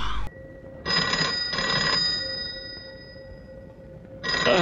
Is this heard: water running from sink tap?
no